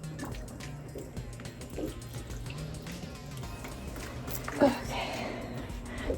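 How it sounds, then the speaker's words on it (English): Water pours and trickles steadily into a houseplant's pot, with gurgling and a soft splash partway through, fairly close. "I'm watering Frida."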